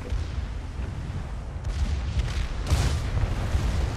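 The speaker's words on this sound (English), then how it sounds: "Now my secondaries start opening up." Rapid booming gunfire from a battleship's secondary batteries in World of Warships, a Tier 2 Japanese battleship Mikasa, rumbling dense and continuous, growing louder with sharper bursts toward the end.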